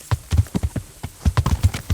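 Horse hooves clip-clopping in the video game Kingdom Come: Deliverance, a steady run of close, distinct hoofbeats with a brief gap midway, heard alone without talk.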